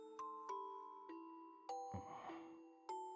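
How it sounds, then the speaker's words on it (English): Bell chimes from the Dies Irae visual novel game ring out in a sequence of clear, sustained tones, each strike overlapping the decaying ring of the last, with a brief noisy swell in the middle. "A whole orchestra of bells."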